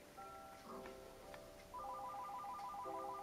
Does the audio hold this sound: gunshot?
no